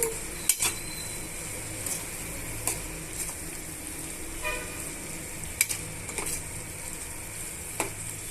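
Egg curry being stirred in a pan with a utensil, giving soft scraping and sparse metallic clinks against a low steady sizzle, with a few sharper taps spaced through the stretch and no voices.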